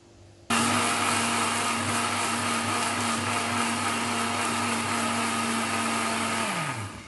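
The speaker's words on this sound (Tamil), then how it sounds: "பாசி பருப்பு அரைச்சிக்கலாம், அதுவும் குறுன குறுனையாக தான் அரைக்கணும்." A kitchen mixer grinder runs for about six seconds, coarsely grinding moong dal into a grainy texture; a loud, steady motor whine starts abruptly and winds down at the end, with no talking.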